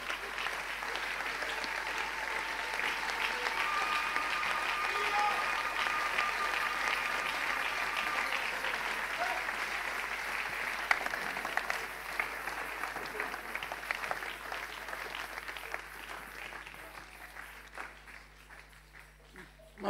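A church congregation claps steadily, dense applause that holds loud for a long stretch and then slowly fades toward the end.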